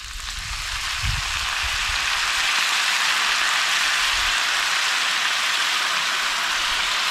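Wine poured over sautéed onions and garlic in a pan sets off a loud, steady, hissing sizzle that rises within the first second and holds at full strength, with a few low bumps at the start.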